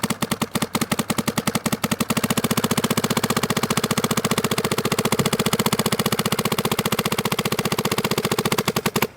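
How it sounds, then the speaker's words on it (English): Dye DSR Pro paintball marker firing a long rapid burst at about 15 balls a second, a dense, even stream of sharp close pops lasting roughly nine seconds. "Now you probably won't be shooting at 15 balls a second."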